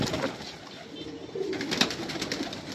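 Pigeon cooing, a soft low coo heard close by along with faint rustling and background noise over a few seconds.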